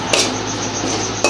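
A utensil stirs onions and green chilies in a pan over a high flame, giving two sharp metallic clinks against the pan, one near the start and one near the end, over a steady burner hiss.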